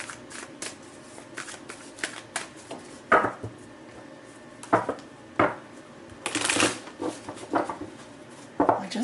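Tarot cards being shuffled by hand, with repeated riffling bursts and soft slaps spread through the clip, close and clear with no talking.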